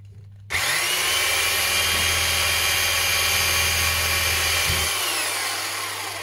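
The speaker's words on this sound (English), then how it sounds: "All right, so we're going to drill." An electric drill bores holes through a tin can resting on a piece of wood, a loud steady whine that starts abruptly, holds for about four seconds, then cuts off, close to the microphone with no talking.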